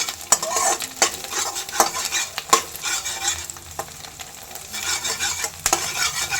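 Green chillies frying in oil for egg fried rice, stirred with a utensil that scrapes and clinks against the pan in irregular strokes over a constant close sizzle, no voices.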